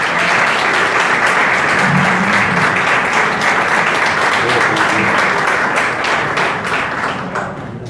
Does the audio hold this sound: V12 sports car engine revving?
no